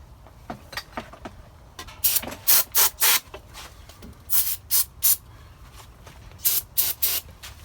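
Brake cleaner sprayed onto oily, greasy fuel system parts of a bus, heard as a series of short, sharp aerosol hisses in uneven bursts, some single and some in quick clusters, close and fairly loud.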